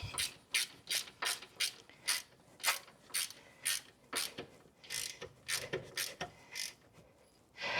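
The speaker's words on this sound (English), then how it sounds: "we'll tighten up the lock bolt on the adjuster" Ratchet wrench tightening the lock bolt on the adjuster of an 80 Series Land Cruiser with a 1FZ engine, a steady run of about twenty crisp, close clicking strokes in an even back-and-forth rhythm.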